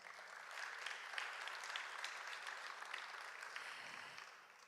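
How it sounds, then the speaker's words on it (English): A high school student audience at an awards ceremony for a student film festival claps for several seconds in a steady, moderately distant burst of applause. "Are you guys clapping already?"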